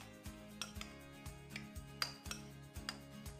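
Chicken and potatoes being tossed with olive oil, salt and black pepper in a dish, giving a steady run of soft scraping and clinking utensil-on-dish sounds in a loose repeating rhythm, close by with no talking.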